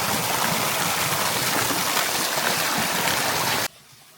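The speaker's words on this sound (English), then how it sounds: "The broth has been quietly simmering" Crab soup broth simmering in a pot on a mud stove in a Vietnamese rainforest camp, a steady bubbling watery rush close by that stops abruptly near the end.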